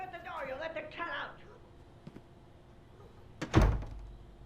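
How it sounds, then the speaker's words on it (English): A door shuts with a single solid thunk in a quiet indoor room, coming after a few moments of speech and a faint knock. "Shut the door, you'll let the cat out."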